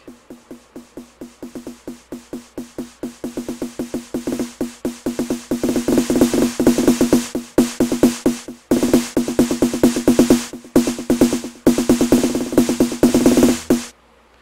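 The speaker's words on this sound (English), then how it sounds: "8-bar snare roll here." An eight-bar snare roll builds up in FL Studio, starting as sparse quiet hits and speeding into dense rapid-fire strikes. It grows steadily louder, breaks off briefly near the middle, then carries on to a sudden stop.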